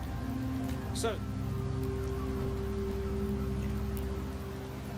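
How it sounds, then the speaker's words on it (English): Steady rain falls across the video game land of Septimont, a soft constant patter under a low drone, with a brief spoken word over it. "The rains in Septimont never seem eager to leave this season."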